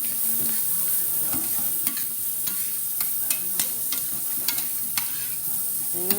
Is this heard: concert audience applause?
no